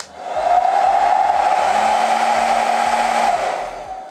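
Two handheld hair dryers, a Hot Tools Quiet Air Pro and another model, run side by side, producing a steady loud whooshing blow that swells in at the start, holds evenly for about three seconds, then tapers off; no talking.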